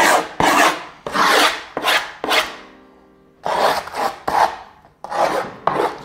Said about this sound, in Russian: берем наш замечательный напильник и проходимся по кругу, чтобы увидеть очертания доски и, собственно, загладить край